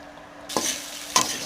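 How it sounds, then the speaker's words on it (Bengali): Chowmein noodles tossed with magic masala and tomato sauce in a pan, with two quick scraping stirs that set off brief bursts of sizzling, close and fairly loud against a quiet background. "5 মিনিট নেড়ে চেড়ে নেব।"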